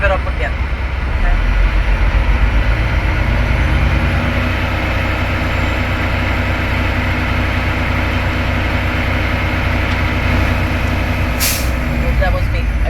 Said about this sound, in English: so I can go ahead and rev it up again